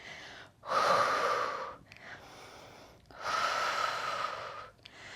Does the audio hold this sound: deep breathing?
yes